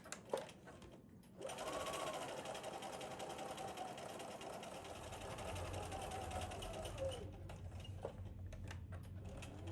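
A sewing machine stitches a few quick back stitches on a cross stitch portfolio bag, its steady motor whir running close and continuous for several seconds after a brief pause, with clicks of the machine before and after.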